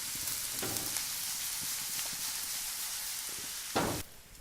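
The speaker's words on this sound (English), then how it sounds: "It'll take about 15 minutes to saute these vegetables down." A Holy Trinity of vegetables sautéing in a pan for meat pies gives off a steady, even sizzle with faint scattered pops and one brief louder clatter near the end.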